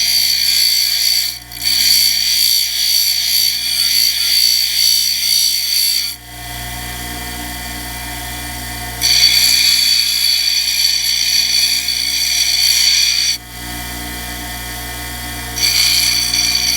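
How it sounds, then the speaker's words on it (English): A chiastolite beach rock being ground on a machine, giving a high rasping whine in long passes broken by short pauses where the grinding lifts off and a motor hum continues underneath. "we're almost ready to get grinding"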